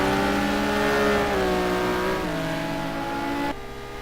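A simulated GT race car at Spa in a racing game howls at high revs, then drops through upshifts in clear stepped pitch falls, loud and steady before the engine note cuts lower near the end.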